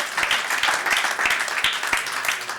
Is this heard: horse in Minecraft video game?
no